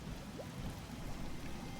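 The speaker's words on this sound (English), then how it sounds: "Rain goes right through these glass panes" Rain in the game Fallout 76, a steady dense hiss of falling drops, moderately loud and continuous with no talking.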